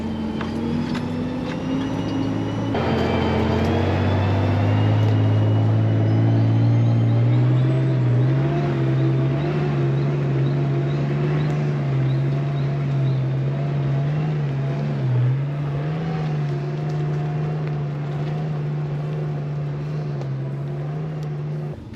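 Nissan Patrol 4WD climbing a steep rocky hill, its engine loud and close, rising in pitch after a few seconds and then holding a strained, steady drone as it labours upward.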